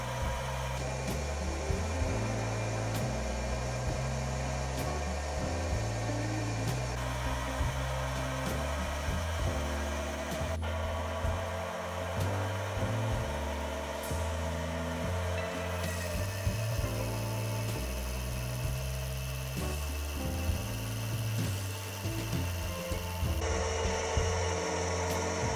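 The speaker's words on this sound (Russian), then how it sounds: "На заготовке из дюрали сделаю шестигранный конус. Для этого подготовлю сначала черновой конус, а потом пройдемся вращающимся резцом." A lathe doing polygonal turning on a duralumin blank, a rotating cutter shaping a hexagonal cone, giving a loud continuous whirring machine drone with cyclic cutting chatter throughout and no speech.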